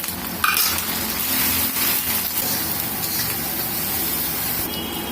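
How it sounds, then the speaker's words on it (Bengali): Garlic paste fries in a pan with a loud, steady sizzle and spray, joined by a few scraping stirs and light utensil clinks throughout. "এখানে আমি আধা চামচের মতো রসুনের পেস্ট দিলাম। এখন এটাকে আমি সুন্দর করে ভেজে নেব।"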